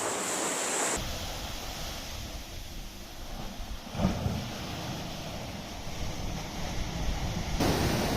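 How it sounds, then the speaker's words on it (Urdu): Sea waves surge and break at the mouth of a coastal cave near Gadani in Balochistan, a steady roar of surf and wind buffeting the microphone, with a brief louder wash midway. "سمندر کی لہروں میں کس قدر قوت ہے"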